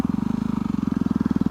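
Turbocharged Yamaha WR250R motorcycle engine idling close and loud, its single-cylinder exhaust pulsing in a rapid, steady, slightly uneven putter with small sputters.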